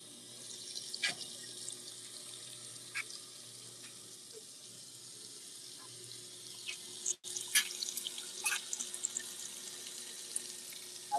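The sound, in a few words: GE GTW220ACW0WW washing machine filling with water, cool wash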